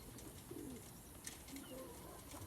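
Pigeons cooing in a coop, low soft coos repeating a few times against a steady noisy background with some bird movement, no clear speech.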